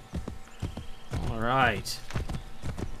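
In Assassin's Creed III, a horse's hooves clip-clop in sharp, regularly spaced steps, with a neigh rising in the middle, while someone talks over it.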